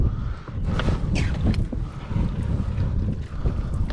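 Gusty wind blows steadily across an outdoor grill, a loud, rough roar of microphone buffeting that swells and dips throughout with no speech.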